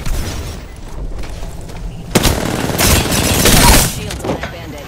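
Video game shooter combat with a loud, close burst of gunfire and booming blasts that swell in the second half. An earlier stretch holds lower rumbling action.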